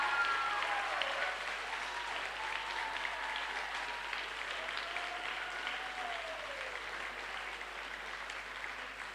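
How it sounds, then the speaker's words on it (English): An audience applauds after an impromptu speech at a school forensics and debate final, with sustained dense clapping from a large crowd at an even level throughout. A faint whistle-like tone glides through the clapping. "One more loud round of applause for all of our participants today."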